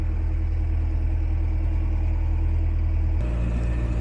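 A narrowboat's engine chugs in a steady low throb while cruising on the River Great Ouse, revs raised slightly against the current, with the note shifting a little near the end; no one speaks.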